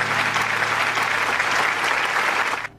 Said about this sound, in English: It's a stupid applause button.